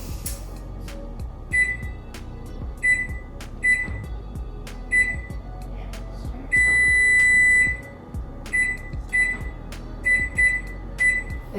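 A kitchen oven timer gives repeated short electronic beeps in bursts, then one longer sustained tone, heard fairly close over low kitchen background noise.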